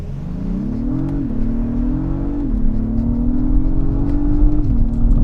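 A 2022 Acura MDX Type-S SUV accelerates hard from a stop, its engine note climbing steadily through several gear shifts heard as brief dips in pitch, loud and continuous from inside the cabin.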